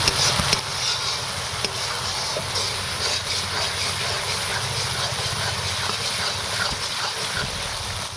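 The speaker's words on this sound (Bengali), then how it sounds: "এবার আমি পরিমাণ মতন জলটা দেবো।" Water poured into hot frying masala, its oil already separated, for a bhola fish masala curry: a loud, steady hissing sizzle that holds evenly from start to end, with no talking.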